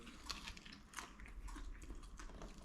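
Crunchy biting and chewing of a cheese and pesto pastry, a Maltese snack, with several crisp bites close up over a low background hum.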